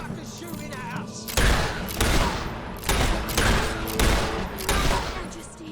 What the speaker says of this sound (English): Suckers shooting at us!